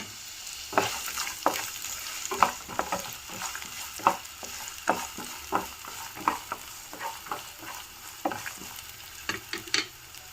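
Chopped onions and green chillies hit hot oil with peanuts in a pan for a capsicum and potato curry, sizzling loudly with repeated sharp crackles and stirring scrapes, near and continuous without speech.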